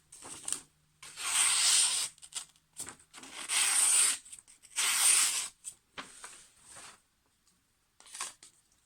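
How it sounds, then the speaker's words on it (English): A knife blade slicing through paper to test its edge, several close, dry tearing swipes of about a second each, with quieter rustling between them. "Cutting paper like this"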